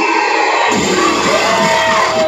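Wrestling crowd near Chantal Jordan's Birmingham-area hometown cheering and shouting for her at a live show, a sudden loud swell of cheers and whoops that stays steady and dense.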